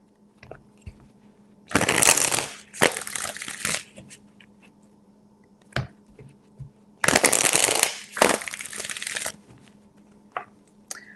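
A tarot deck is riffled in two long, loud bursts of fluttering card shuffles, each lasting about two seconds, with softer taps and handling noises between them and no speech.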